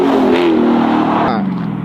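A Chrysler 300 Scat Pack revs loudly and close by as it swings around a corner, its engine note sliding downward and then easing off, with no talk over it.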